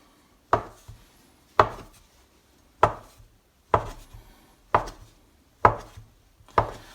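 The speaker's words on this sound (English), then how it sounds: "And then we cut them into little circles." A kitchen knife chops down through rolled gyoza dumpling dough onto a board to cut little circles, seven sharp, evenly spaced knocks about one second apart, close and distinct with quiet in between.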